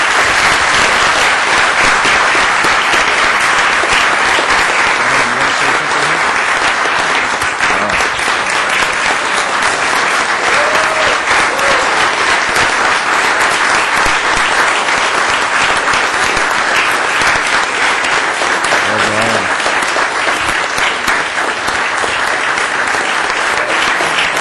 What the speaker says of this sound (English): That's what I'd say deserves a round of applause.